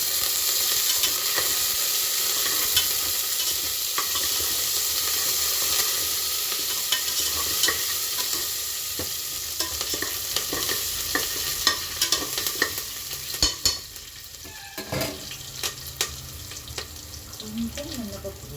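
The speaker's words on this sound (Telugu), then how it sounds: "అల్లం వెల్లిపాయ వేసి బాగా కలుపుదాం." Ginger and garlic frying in a pan while being stirred, a constant loud sizzle with frequent scraping spatula strokes throughout.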